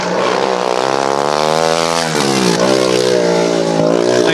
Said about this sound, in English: let me hold the mic out so you can hear the car as it goes past our booth